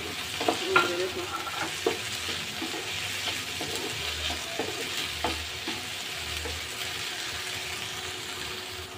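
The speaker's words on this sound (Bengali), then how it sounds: "এই যে এই বিচিগুলো আমি এখন এই পেঁয়াজ রসুনের সাথে হালকা একটু ভালোভাবে এভাবে নেড়ে চেড়ে তেলে নেব।" Bottle gourd seeds stir-fried in oil with onion and garlic give a soft, continuous sizzle, broken by irregular scraping and stirring clicks from a utensil in the pan.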